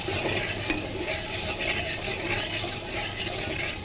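Masala stir-fried in a pot for Mughlai pulao, a steady broadband sizzle with scraping stirs running close and continuous, no voices.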